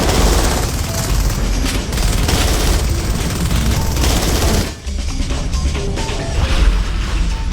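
Sustained rapid gunfire and explosions in the video game Natural Selection 2, loud and nearly continuous with a brief lull near the middle, while voices talk underneath.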